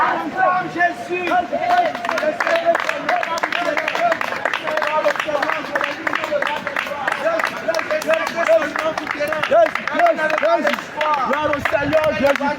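A crowd at a street evangelism gathering at Châtelet in Paris cheers and chants in praise of Jesus, rhythmic massed voices and shouts with scattered clapping, loud and continuous from start to finish.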